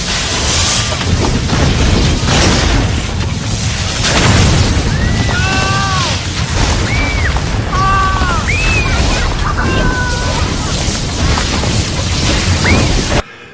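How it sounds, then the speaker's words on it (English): A building blown up as a film special effect in the 1996 movie Santa with Muscles, a loud sustained rumbling roar, with rising whistling tones and voices over it. "at some point, something blows up. It all blows up."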